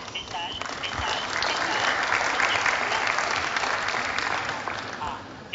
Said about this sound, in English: perhaps you should give all of yourselves a round of applause.